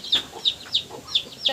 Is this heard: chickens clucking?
yes